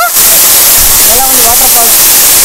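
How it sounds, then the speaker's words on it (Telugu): Ramapuram waterfalls near Tirupati pour with a steady, loud, close roar of rushing water that fills the whole stretch, with a few faint tonal calls or voices briefly rising over it. "ఎలా ఉంది వాటర్ ఫాల్స్?"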